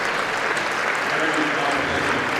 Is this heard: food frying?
no